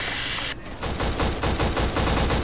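Spas-12 shotgun fired repeatedly in a video game, a rapid series of loud, close blasts following one another in quick succession across the clip after a brief gap.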